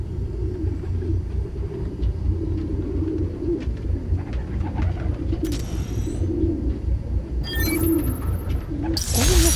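In a park recording in the Spider-Man Miles Morales video game, a flock of pigeons coos steadily over a low rumbling background, with a few faint higher chirps and rustles near the end.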